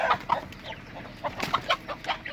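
Several chickens cluck in quick, uneven bursts, close by and moderately loud, with no voices.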